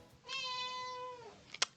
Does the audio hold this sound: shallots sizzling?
no